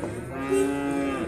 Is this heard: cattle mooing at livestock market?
yes